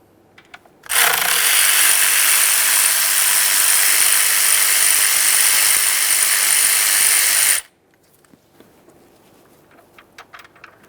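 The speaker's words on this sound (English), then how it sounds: "Let's start removing the outer mounting bolts first." A ratchet wrench loosens intake mounting bolts on a 2015-2020 Ford F-150 with a 3.5L V6, giving one close, loud, steady burst of dense mechanical clicking that lasts several seconds and then stops dead, leaving a quiet room.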